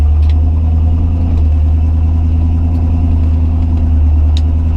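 A Ford F100 truck fitted with a new fuel pump runs steadily with a low, continuous engine rumble from inside the cab, even and unbroken throughout with no talk.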